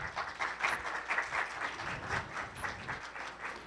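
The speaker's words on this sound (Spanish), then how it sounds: "así que un aplauso," An academic event audience breaks into applause, a moderately loud, steady wash of many hands clapping that continues throughout with no talking.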